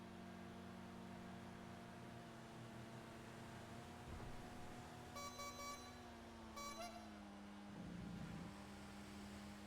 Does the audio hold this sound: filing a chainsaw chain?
no